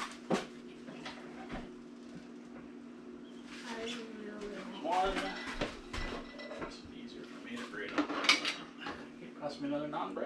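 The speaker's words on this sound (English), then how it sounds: "We're going to put that in the air fryer." Metal pans and an air fryer basket clatter and clink in a kitchen as cheeseburger naan pizzas go into the air fryer, a series of irregular close knocks and scrapes with a brief voice in between.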